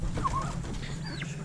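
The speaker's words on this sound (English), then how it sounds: "turkeys messing with each other" Turkeys on a farm squabble nearby, with short clucking calls and a rising squawk over a low, steady background murmur, fairly faint.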